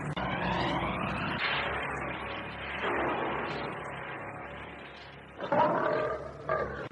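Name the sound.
white tiger roaring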